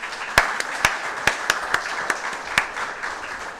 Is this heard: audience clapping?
yes